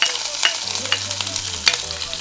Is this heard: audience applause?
no